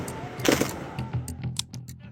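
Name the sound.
rifle gunshots fired by soldiers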